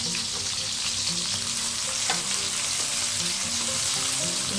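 Garlic fries in a hot pan with a dense, continuous close-up sizzle and a few faint stirring scrapes, no voices.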